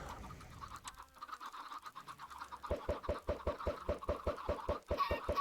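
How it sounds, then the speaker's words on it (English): Baby chickens in the Minecraft video game give soft clucks, first scattered and sparse, then a rapid regular run of short blips, with no talking. "All right, let's get more baby chickens."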